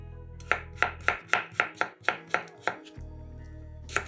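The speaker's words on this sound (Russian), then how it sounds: "2 средних огурца нарезаем четверть кружочками" A knife cuts two medium cucumbers into quarter rounds on a cutting board, giving about nine crisp, evenly spaced chops close up, then a pause and one more cut.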